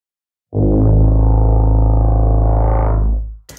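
A thick, distorted synth tone with a flanging comb-filter effect sustains loudly for three seconds, with a subtle sweeping, hollow comb-like shimmer in its texture before cutting off.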